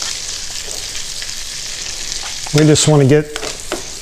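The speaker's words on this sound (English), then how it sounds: "Let's go ahead and start mixing it in a little bit now." Shrimp pasta is stirred in a pan as butter melts, with a steady close sizzle of frying and light scraping throughout, and a voice speaking briefly over it.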